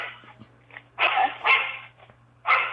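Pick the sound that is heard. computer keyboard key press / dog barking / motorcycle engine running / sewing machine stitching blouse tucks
dog barking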